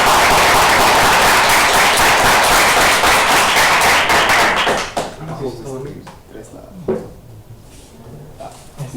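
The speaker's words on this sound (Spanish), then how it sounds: "vamos a darle un fuerte aplauso." Audience applause after a physics lecture on inflationary models, a dense burst of clapping filling the room for several seconds, then fading into scattered claps and nearby voices.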